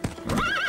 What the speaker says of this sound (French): Ce cheval est vraiment magnifique.